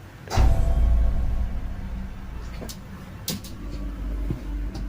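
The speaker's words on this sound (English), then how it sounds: "It sounds like her closet door fell." A closet door falls indoors with a loud thudding crash and a long low rumble afterward, followed by a few fainter knocks and rattles, and no talking over it.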